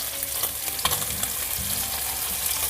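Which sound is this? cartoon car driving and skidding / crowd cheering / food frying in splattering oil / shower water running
food frying in splattering oil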